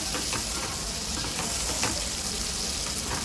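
Steady crackling sizzle of ginger garlic paste with cumin frying in hot oil, close and continuous with a few louder pops, no voices.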